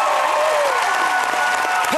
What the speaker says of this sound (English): Come on, please, give them a round of applause.